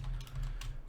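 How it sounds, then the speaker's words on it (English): Fingers type on a computer keyboard, a few quick close clicks in an uneven burst less than a second long. "Let's just like type signum"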